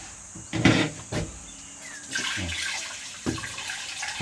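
Water splashes and runs in a campsite toilet with a bidet, coming in uneven bursts and gushes against a hollow, echoing room, with some clatter mixed in.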